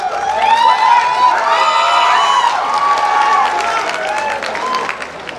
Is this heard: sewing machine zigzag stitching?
no